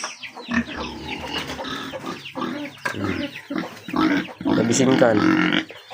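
A pig grunts and snorts repeatedly at close range in its pen, irregular bursts with short pauses between them.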